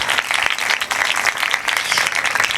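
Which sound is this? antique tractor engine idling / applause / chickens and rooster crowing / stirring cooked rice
applause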